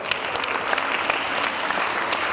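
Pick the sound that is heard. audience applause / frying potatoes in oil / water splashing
audience applause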